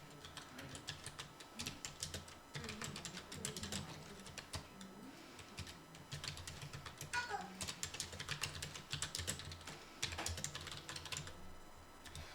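Steady, rapid typing on a computer keyboard fills the whole stretch, close and fairly quiet, with clustered bursts of clicks and faint voices in the background.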